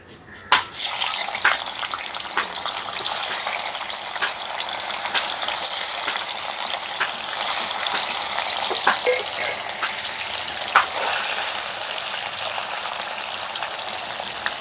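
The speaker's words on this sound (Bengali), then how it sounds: "এখন তেলের মধ্যে দিয়ে ভেজে নেব।" Cut paneer cubes frying in hot oil, giving a loud, continuous, spattering hiss that carries on unbroken with no voices.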